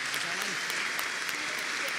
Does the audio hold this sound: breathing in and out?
no